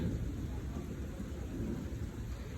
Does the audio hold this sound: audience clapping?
no